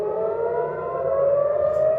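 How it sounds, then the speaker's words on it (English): Civil defense air raid sirens sounding during a night missile attack on Jerusalem and Tel Aviv, a steady, sustained wailing tone that rises slightly in pitch, heard clearly at moderate distance with no talk. "Sirens wailed for much of the night as Jerusalem and Tel Aviv came under attack."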